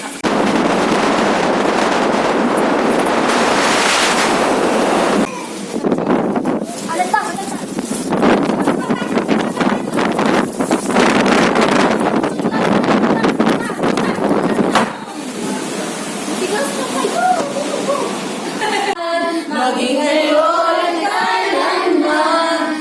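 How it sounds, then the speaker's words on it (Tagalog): Strong gusting wind from Super Typhoon Rolly roars and buffets the microphone almost continuously, loud and close. A voice is heard toward the end. "Yan, super lakas na po ng hangin."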